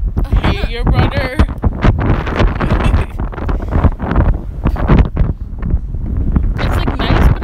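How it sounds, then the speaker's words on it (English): Strong wind buffets the microphone outdoors, a loud continuous rumbling roar with gusty surges, while people talk underneath. "It's really windy."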